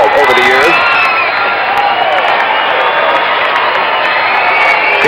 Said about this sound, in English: He will hear the roar of the crowd.